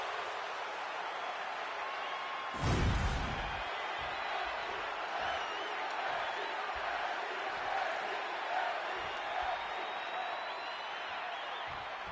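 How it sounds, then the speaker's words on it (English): A capacity arena crowd in WWE 2K25 sends up a broad, constant roar of cheering, with one brief loud slam-like burst near the start. "this capacity crowd is ready to see Becky Lynch in action"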